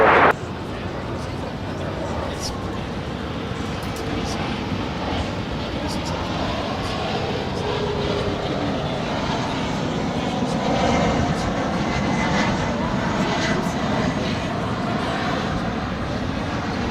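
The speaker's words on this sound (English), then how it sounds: "That's followed by that UPS 757 coming in from New Orleans" A UPS Boeing 757 cargo jet on approach to land at Dallas-Fort Worth airport, its steady broadband engine roar droning continuously under a faint voice.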